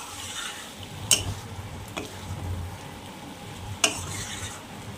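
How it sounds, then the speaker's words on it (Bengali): Jackfruit seeds sautéing with spices in a pan, a soft steady sizzle punctuated by a couple of sharp clinks of a spoon stirring against the pan. "কষানো হচ্ছে বন্ধুরা।"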